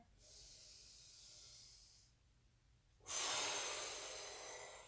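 Breathing during a stretching exercise: a soft airy inhale, a brief pause, then a louder, longer rushing exhale close to the mic.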